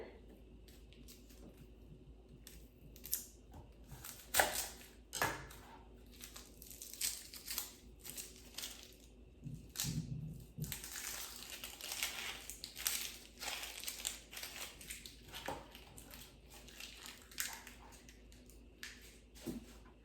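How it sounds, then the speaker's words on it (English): Half an onion peeled by hand, with dry papery crinkles, tears and soft crunches coming in irregular bursts, close and fairly quiet, no talk. "And now let's peel this half of an onion."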